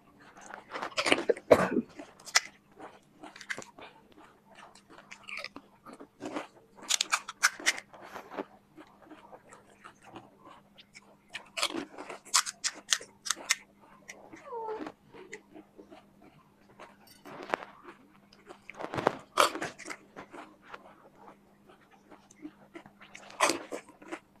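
Fuchka (pani puri) eaten quickly in an eating challenge, with repeated crisp close crunches and bites in irregular bursts, separated by quieter chewing and pauses.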